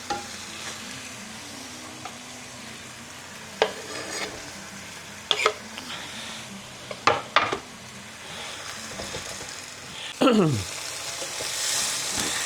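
Onion frying with minced meat in a pan for spaghetti bolognese, with steady sizzling and several sharp stirring and scraping clicks, a louder spoon scrape near the end.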